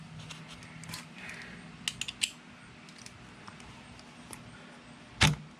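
A ratchet tightens hardware on the primary of a 1971 Harley-Davidson Ironhead. Several quick close clicks and metallic clacks are spread across quiet workshop background, ending in a louder clunk.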